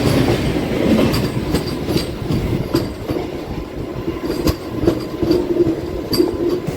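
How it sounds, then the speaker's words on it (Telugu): An Ernakulam to Tatanagar express train passes close by, heard from a MEMU train in the Godavari district, a loud continuous rumble with rhythmic wheel clatter and sharp clacks throughout. "ఎర్నాకుళం నుంచి టాటానగర్ వెళ్ళే ట్రైన్ అండి."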